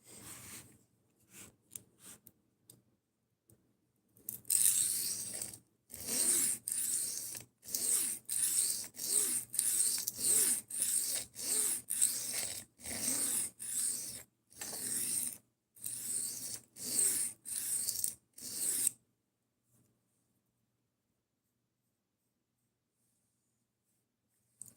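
A knife blade is worked on a sharpening stone to raise a burr, producing about fourteen steady, rhythmic rasping strokes that are close and fairly loud, followed by silence.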